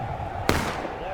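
A single sharp gunshot in the Civil War video game War of Rights, a loud, close crack rising out of a steady background murmur.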